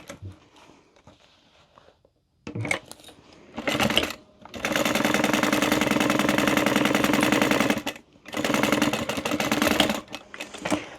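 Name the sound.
sewing machine stitching a seam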